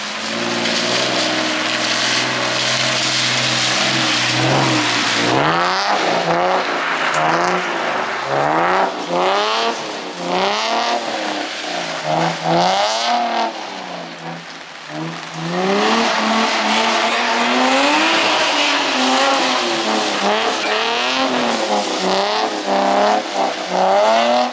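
Nissan 350Z/G35 with rear diff brace drifting sideways, engine roaring loudly and revving in repeated surges under long tire squeal, close and continuous with a brief dip midway.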